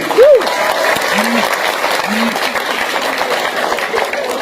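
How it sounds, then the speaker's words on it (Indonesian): Applause from the congregation at an Islamic sermon, honouring santri students; steady, fairly loud clapping runs throughout, with a voice briefly over it. "Tepuk tangan untuk para santri"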